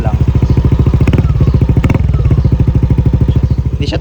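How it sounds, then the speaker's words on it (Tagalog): A Yamaha Aerox version 2 scooter engine running loud and close with rapid regular pulsing, briefly climbing in pitch as it revs, while someone talks over it. "Habang pinapainit natin yung ating Aerox version 2"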